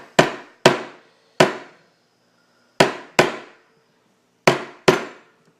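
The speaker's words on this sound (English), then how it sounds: "trying to kind of tap it to make it somewhat straighter" A bent RC car suspension pin is tapped straight with a hammer, giving seven sharp, bright metallic taps in irregular pairs and singles, close and clear against silence.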